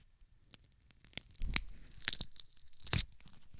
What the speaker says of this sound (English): A leaf just fell off, so maybe we can also like rip it.